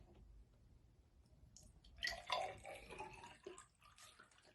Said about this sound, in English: so I'm gonna pour some for me.